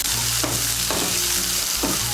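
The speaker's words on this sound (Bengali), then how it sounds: "এখন আমি এর মধ্যে দিয়ে দেবো বিনস কুচি। দিয়ে দেবো চিড়ে রাখা কাঁচা লঙ্কা। বিনস কুচিটাকেও মিশিয়ে নেব।" Chopped beans and green chillies stirred into a flattened-rice pulao in a hot pan, giving a steady sizzle broken by about three spoon strokes, close and loud.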